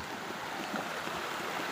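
Shallow stream being waded across on a muddy mountain trail, a soft steady trickle and wash of flowing water, faint and continuous, with no voices.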